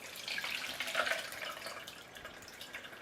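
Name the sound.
whey draining from fresh cheese through a colander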